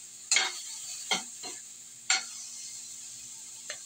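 Ingredients for sopas being sautéed in a pan: a steady hiss of sizzling oil with a few distinct scraping stirs of a utensil, close by and fairly faint, with no talking.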